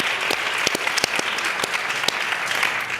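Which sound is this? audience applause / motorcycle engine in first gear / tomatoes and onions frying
audience applause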